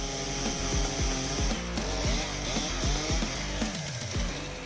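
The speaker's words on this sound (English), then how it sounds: "this sturdy machine easily moves through the toughest woods, turning giant logs into small ones." A powerful forestry chainsaw cuts through giant logs, roaring loud and close with a steady engine drone and repeated rhythmic bogging as the chain bites into the wood.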